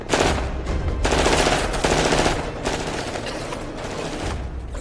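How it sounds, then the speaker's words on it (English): Gunfire rattles in the action film Mission: Impossible – Fallout, loud sustained bursts of rapid shots that carry on without a break, with no talk over them. "Did he just shoot Luther himself?"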